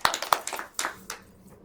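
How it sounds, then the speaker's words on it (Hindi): At a Navratri poetry gathering, a few scattered, quiet hand claps sound close by, irregularly spaced and thinning out into near silence. "तो एक बार जोरदार तालियां आदरणीय डॉक्टर इला जी के लिए।"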